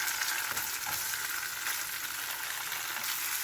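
Tofu fries in oil in a nonstick pan, making a steady, dense crackling sizzle throughout with faint stirring and a small clack at the very end.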